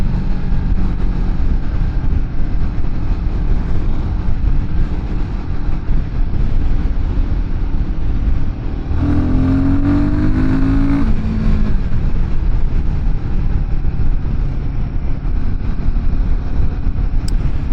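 Royal Enfield Guerrilla 450 motorcycle riding on a sunny day, a steady engine and exhaust drone with road and wind noise, rising briefly in pitch midway as the engine revs.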